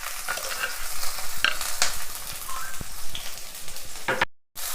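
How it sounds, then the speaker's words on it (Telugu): Onions and green chillies sizzle in hot oil as they are stirred and fried for chicken fry. A steady, close crackling hiss runs throughout, with occasional scraping stirs and a brief dropout near the end, and no talking. "ఉల్లిపాయలు ఇలా బాగా దోరగా ఉల్లిపాయ వేయించుకోవాలి."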